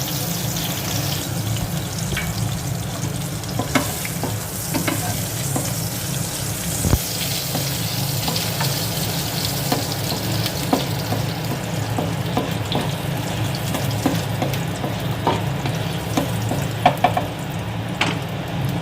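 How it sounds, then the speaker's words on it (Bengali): Cinnamon and green cardamom sizzling in hot oil in a pan, a loud, steady frying crackle with scattered pops and faint clinks of a utensil stirring, no voices. "এবার এই তেলের মধ্যে আমি এখানে নিয়ে নিয়েছি দারচিনি আর ছোটো এলাচ, সেটা দিয়ে দেব"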